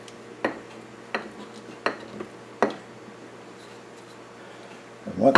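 Dilly beans being packed down into a glass jar with a small tool, giving four sharp clinking taps spaced about a second apart, then a louder scraping rustle at the end, close up with no talk.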